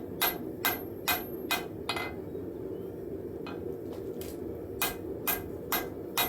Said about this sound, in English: I'm going to switch hammers and come in and do light hammer blows just to kind of smooth everything out